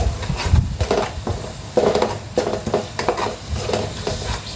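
Beef with spices and coriander being stirred in a pot, a run of scraping, clattering strokes with a soft sizzle underneath, fairly close and steady, no talk.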